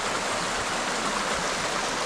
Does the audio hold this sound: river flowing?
yes